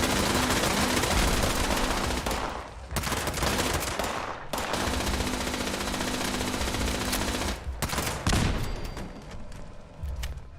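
Laser turrets in Fallout 76 fire rapid, sustained bursts, loud and near, dense volleys running almost continuously with two brief gaps and a sharp crack near the end.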